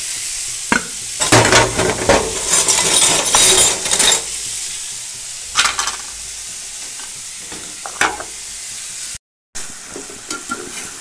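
Water spinach (kalmi shak) frying in a pan, with loud bursts of sizzling and spatula scraping and stirring for a few seconds, then quieter scattered clinks and scrapes.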